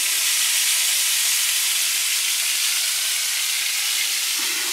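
Freshly dug clams frying in hot oil, a loud continuous bright sizzle and hiss with no pauses, close and steady with no talking.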